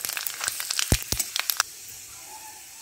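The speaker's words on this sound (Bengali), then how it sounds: "এখানে আমি ফোড়ন হিসেবে নিয়েছি 3টে তেজপাতা, হাফ টিস্পুন পাঁচ ফোড়ন আর একটা শুকনো লঙ্কা দিয়ে দিচ্ছি, নেড়ে নিচ্ছি" Bay leaves, panch phoron and a dried red chilli hit hot mustard oil, crackling and popping in a rapid burst of sharp snaps over a steady sizzle that quiets to a soft hiss.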